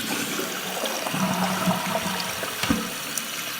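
Pfister Fullerton dual-flush toilet tank draining, a steady rushing flush of water close by, continuous and fairly loud throughout with a brief thump near the end.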